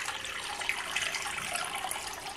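Lukewarm water poured steadily into a bowl for laganes bread dough, a faint continuous trickling splash with no speech.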